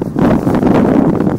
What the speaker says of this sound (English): Little wind.